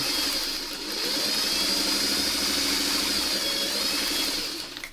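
Older sewing machine running continuously at steady speed, a close whirring mechanical hum with a rapid rhythmic needle chatter throughout, easing slightly at the very end.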